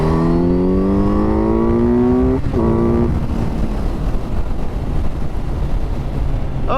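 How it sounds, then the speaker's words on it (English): A DRZ400SM motorcycle pulls hard in third gear, its engine note climbing steadily and loudly before a brief break and a lower drone as wind noise rushes over the microphone. "we'll just give it a little bit of a third gear pull here"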